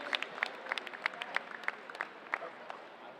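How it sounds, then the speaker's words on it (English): Applause at a college men's wrestling meet between North Central College and Wheaton College, heard as sparse, distinct hand claps from a small, distant crowd over a quiet, hollow gym ambience. "Please give a big round of applause for the seniors' hard work and dedication"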